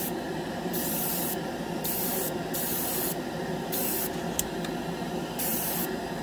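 A GSI Creos Mr. Hobby Procon Boy SQ single-action airbrush hisses in short bursts and longer sprays of gray primer onto a bomber scale model, close by, stopping and starting over a steady background hum.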